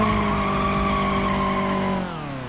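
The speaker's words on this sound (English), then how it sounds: "we can try doing a little skid here, first gear" A rear-wheel-drive Polish limousine with a 1.5-litre engine skids in BeamNG.drive after a first-gear clutch dump, its tires squealing in a loud sustained screech over the engine, which drops in pitch and fades slightly near the end.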